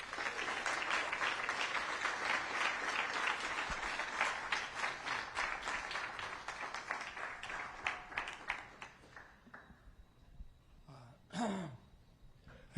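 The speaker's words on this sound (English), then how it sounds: "let's all give a big, warm applause and welcome my dear friend, Professor Daniele Mortari" Warm audience applause welcoming a speaker at a university aerospace symposium, steady even clapping for about nine seconds that thins to scattered claps and a few faint sounds before fading.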